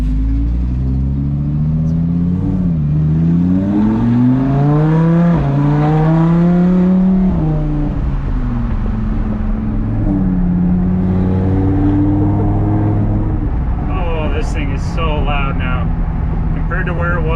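A Lamborghini with straight pipes revs up and down repeatedly, its loud, deep roar rising in pitch with each push while people talk underneath.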